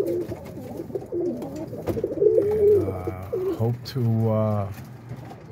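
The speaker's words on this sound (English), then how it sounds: "this is the family of birds that I'm breeding" Breeding pigeons, a family including a dark check, cooing close by in soft rolling calls that grow louder toward the end, with someone talking over them at first.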